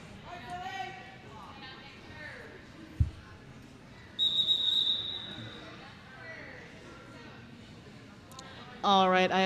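At a roller derby bout, a referee's whistle gives one sharp, shrill blast near the middle for an official timeout, set against arena noise, thuds and a commentator talking.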